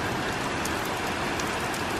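Steady rain pours outdoors on an early dark evening, a dense, even hiss of drops on surfaces filling the whole moment with no voices over it.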